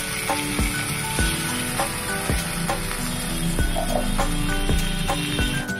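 Cashew paste and water being stirred in a hot pan sizzle steadily, while a spoon scrapes and clacks against the metal in a regular rhythm, roughly every half second, with no one talking.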